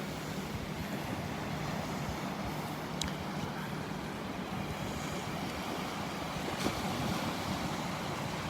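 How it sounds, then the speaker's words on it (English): Small waves wash continuously onto the beach at Delnor-Wiggins, a steady soft surf hiss mixed with light wind noise on the microphone and a couple of faint ticks. "Loving these little waves."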